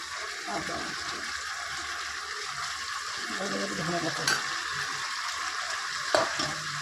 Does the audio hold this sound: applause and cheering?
no